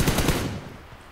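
Rapid automatic gunfire bursts from the PUBG Mobile video game, loud and close in the first half, then fading into a low decaying tail.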